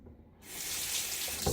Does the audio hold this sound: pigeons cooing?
no